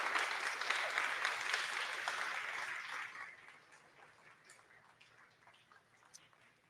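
Applause from an audience at a high school presentation event as a team leaves the stage, full clapping at first that thins out after about three seconds into scattered, fading claps.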